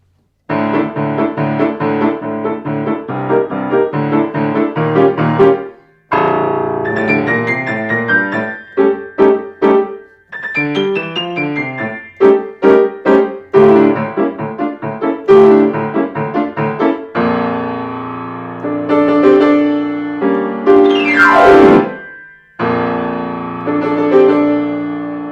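Solo piano plays Joaquin Turina's programmatic piece Clowns from his suite The Circus, loud and close, with lively staccato passages, sudden pauses, rapid runs and a sweeping glissando.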